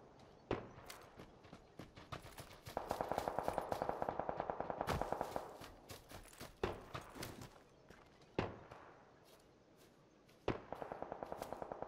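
Gunfire in the battle royale video game PUBG: rapid automatic bursts mixed with single cracking shots, some loud and close, others more distant, arriving in several clusters with pauses between.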